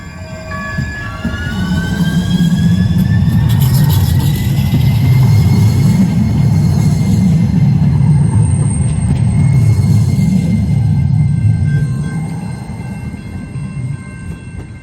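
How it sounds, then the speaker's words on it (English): A Lynx light rail train rolls into a station right alongside, a loud close rumble swelling and fading over about fifteen seconds, with squealing wheels and a brief horn-like tone. "another Lynx train pulled into the station, so we waited for it right next to it"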